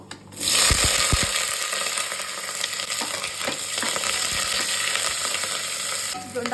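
Onion, chili and curry leaves are dropped into hot oil for a Karnataka-style vegetable sagu and fry with a loud, steady sizzle. A few stirring knocks sound near the start.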